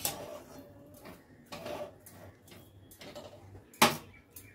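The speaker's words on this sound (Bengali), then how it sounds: "দিয়ে সব কিছু আবারও ভালো করে মিশিয়ে নিচ্ছি। খুব ভালো করে মিশিয়ে নিতে হবে।" Ingredients being stirred together in a cooking pot, with soft scraping strokes and occasional clinks of a utensil against the metal, ending in one sharper clang.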